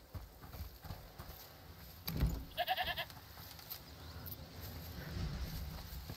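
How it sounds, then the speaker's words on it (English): A goat in A Plague Tale Requiem gives a short, shaky bleat from inside a house, fairly near, among low footsteps and shuffling and a dull thud just before it. "Listen, is that the goat he talked about?"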